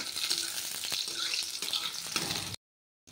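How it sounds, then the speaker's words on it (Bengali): Garlic, dry red chilli, green chilli and nigella seeds fry in hot oil for a Bengali greens dish, a steady broadband sizzle with faint clatter that cuts to silence near the end. "এবার রসুনটা ভাজা হয়ে যাক"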